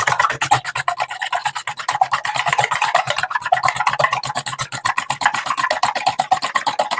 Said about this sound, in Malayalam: ഇത് എഗ് നന്നായി ബീറ്റ് ചെയ്യണം.